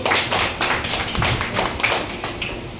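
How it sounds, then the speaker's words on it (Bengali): An audience claps in a run of sharp, uneven hand claps at a district social worker event, the claps fairly close and steady with no talking over them. "জোরে হাততালি হোক।"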